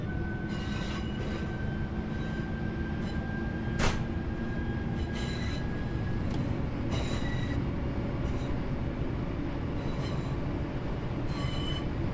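A train in the Train Sim World 4 video game runs with a steady rumble. Wheels squeal and rail clatter recurs over about twelve seconds, with no talk.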